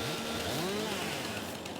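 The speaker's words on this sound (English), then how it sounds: "we got ourselves a chainsaw" Chainsaw running in the farming video game Farming Simulator 22, a buzzing motor whose pitch sweeps up and down as it revs, steady and fairly close for under two seconds.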